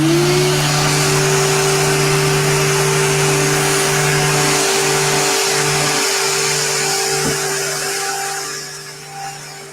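A surfprep electric sander with a foam sanding pad whines steadily and loudly up close, holding one pitch. It winds down near the end.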